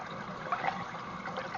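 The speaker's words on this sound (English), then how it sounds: "Air will get entrapped and entrained into the return water once the tank starts flushing" Air bubbles gurgling in an aquaponics return water line as the tank flushes, a soft continuous trickle with a few brief bubbly pops, fairly faint.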